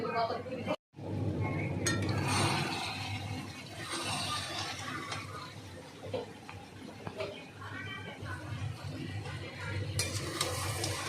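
Crab from the Sundarbans is stirred and sautéed into a curry in a pan, with a low sizzle, utensil scrapes and metallic clinks, and a voice heard at times.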